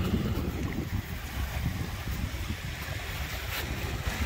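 Sea waves and a light summer mistral wind on an Italian shore, a continuous broadband rush of surf with gusty rumble from wind buffeting the microphone, no voices heard.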